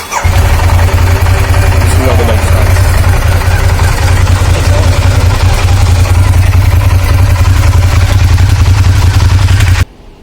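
A superbike at a Karol Bagh second-hand superbike market cranks over and settles into a loud, steady idle close by, its deep rumble running continuously for about ten seconds before cutting off abruptly, with faint talk underneath.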